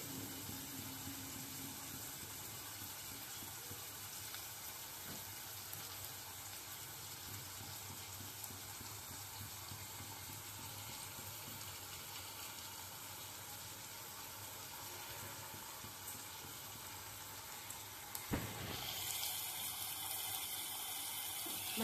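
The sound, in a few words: water being poured into fish curry pan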